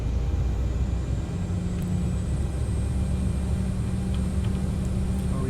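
An Endeavor Air regional jet taxiing toward the runway at Norfolk produces a steady, continuous engine drone and low rumble with a thin high whine above it, unbroken throughout.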